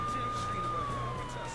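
A police car siren wails in the video game True Crime: New York City, a steady tone that slowly falls in pitch and holds on over engine and street noise.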